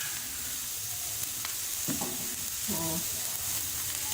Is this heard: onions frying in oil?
yes